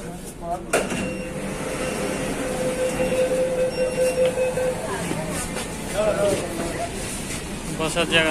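Kolkata underwater metro train pulling into a platform, a steady rumbling roll with a thin wheel squeal and a sharp clunk near the start, heard close amid busy crowd chatter.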